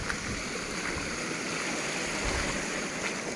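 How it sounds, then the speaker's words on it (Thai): Continuous loud rush of floodwater pouring and churning in, steady and broadband with no pauses, like a strong flow surging nearby. "น้ำไหลทะลักเข้ามาแล้วนะคะทุกคน"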